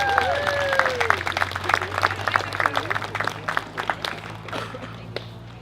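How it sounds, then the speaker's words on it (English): Crowd at an outdoor koala-protection rally claps in a loose, scattered round of moderate applause that gradually thins out, with a faint voice and low background hum underneath. "Everybody clap."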